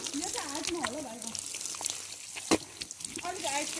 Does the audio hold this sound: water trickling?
yes